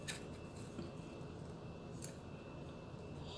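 Scissors snip around the rim of an object, a few faint clipped cuts at the start and near the two-second mark over a steady low background hiss.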